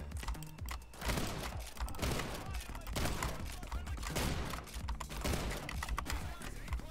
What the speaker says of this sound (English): They're shooting me through the computer,